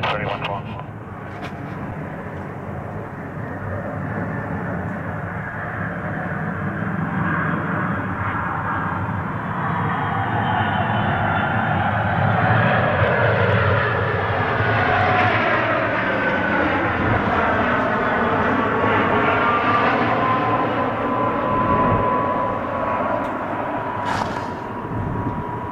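A fixed-wing airliner takes off from runway 33 at Toronto Pearson airport, its engine roar building steadily into a loud, sustained rumble with a rising whine, heard amid distant ambient noise.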